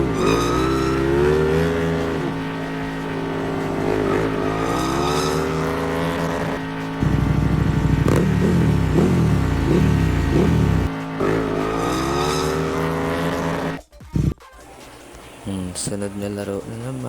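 Engine sound of a motorcycle in a brick game motor race video game, a synthetic buzzing tone that rises and falls in pitch, loud and continuous for most of its length, then a sudden drop and quieter electronic tones.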